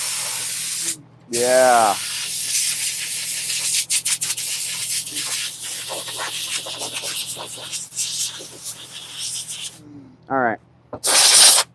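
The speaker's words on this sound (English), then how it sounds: "Air compressor makes it nice." An air compressor nozzle blasts sawdust off a Stihl MS 500i chainsaw after cutting a giant juniper log, a loud close hiss held for long stretches with short breaks and brief bursts; someone speaks a few words.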